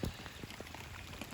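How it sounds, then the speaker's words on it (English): Gentle rain falls on an onion raised bed in a garden as a soft, faint, steady patter with occasional individual drops ticking close by. "Cool, gentle rain."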